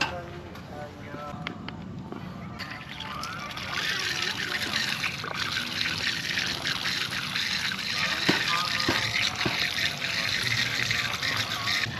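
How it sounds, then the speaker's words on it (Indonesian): Clean tap water runs steadily at a campsite while food for meatballs is washed, a continuous splashing trickle under frequent nearby talk. "Kita udah dapat keran, airnya bersih banget."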